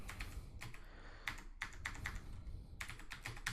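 Quick bursts of keystrokes on a computer keyboard while entering Python code, clustered clicks with short pauses between groups, close and clear over a quiet room.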